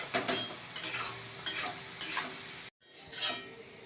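Sliced onions frying in oil for chicken biryani birista, a bright sizzle with rhythmic stirring and spatula scrapes against the pan, close and steady, with a brief cut before the sizzling continues.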